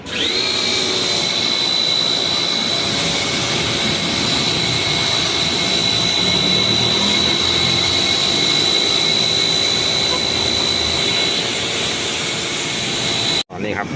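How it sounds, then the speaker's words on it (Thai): A removed Toyota Vios car air conditioner evaporator is being washed, with a loud, continuous motorized whine carrying a high steady tone that runs throughout and cuts off abruptly near the end. "ขั้นตอนการล้างตู้แอร์ครับ"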